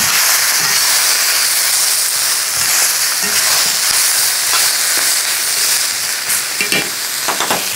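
Vegetables, including rutabaga, browning in a Stargazer 13.5-inch brazier pan give off a loud, steady sizzle and hiss, with occasional brief pops and stirring scrapes toward the end.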